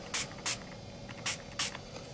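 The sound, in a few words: spraying Glimmer Mist onto tissue paper butterfly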